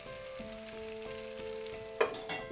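Boiler chicken stirred and fried in a pan for an Assamese village-style dry fry, a soft continuous sizzle with a few light stirring scrapes and a sharper clink near the end, close and without talk.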